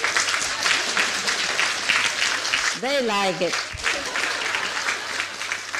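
Audience applause at a lecture in Malaga, Spain: dense steady clapping from a crowd, briefly interrupted midway by someone speaking, then continuing to the end.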